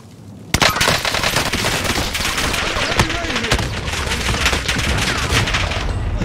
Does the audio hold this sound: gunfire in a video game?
yes